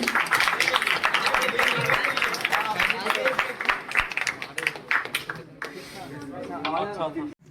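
Scattered audience clapping at a Hindi Day celebration at RTC Institute of Technology in Ranchi continues close by beneath someone talking, fading out toward the end.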